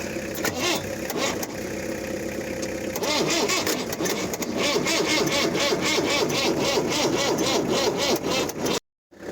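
An Iveco 35-8 van's 2.4 diesel engine, sitting unused for six years and dosed with starting fluid, cranks and fires into a rough, knocking idle, loud and close with a rhythmic chugging beat before cutting off.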